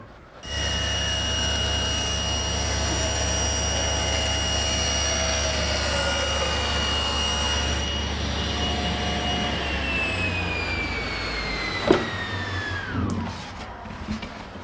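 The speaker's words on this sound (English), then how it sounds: "To cross-cut the panels, I'm going to use my homemade panel cutter. It rides in the miter slot of the table saw" A table saw crosscutting wooden panels for a cherry bathroom vanity, using a homemade panel cutter riding in the miter slot. A steady, loud whining drone runs until the motor is switched off and winds down.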